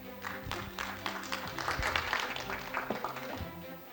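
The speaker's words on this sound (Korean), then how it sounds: "큰 박수로 맞이하시기 감사하겠습니다." Audience at a dental conference seminar in Seoul applauding to welcome a presenter, steady moderate clapping from a crowd indoors lasting several seconds, fairly close.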